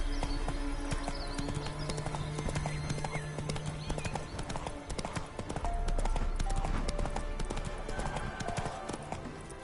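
Geralt's horse Roach galloping in The Witcher 3 video game, rapid rhythmic hoofbeats pounding steadily for several seconds, close and prominent, with a brief whinny.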